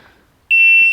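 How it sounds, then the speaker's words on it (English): A shot timer's start buzzer at a DMR rifle match sounds after a half-second hush, one loud, sharp, sustained electronic tone, close and alone. "Buzzer goes off."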